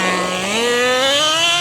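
A nitro-powered RC Rustler truck engine screams past, its high pitch rising steadily as it accelerates nearby. The sound is a loud, continuous whine with no talk.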